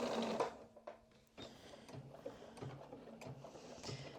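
A sewing machine runs in short and longer bursts of rapid mechanical stitching along the side seam of a vest, close and fairly quiet, with brief pauses between runs.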